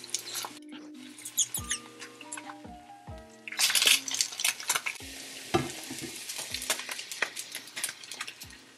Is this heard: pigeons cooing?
no